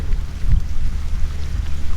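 Rain beginning to fall during a storm in the Everglades, a loud, rough wash of drops and gusty rumble outdoors near a truck, continuous with no talking.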